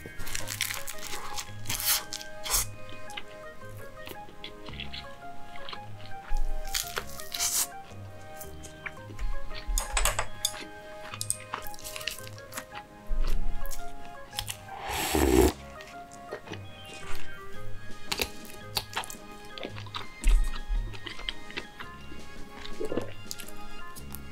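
Wet, close-up chewing and crunching of a large rice ball packed with spicy cod roe repeat steadily for a long stretch, with occasional louder smacks and rustles.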